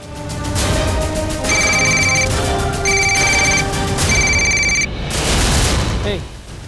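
A telephone rings in repeated bursts of bright electronic trills, three or four rings in a row, loud over a busy scene with a background music score and voices.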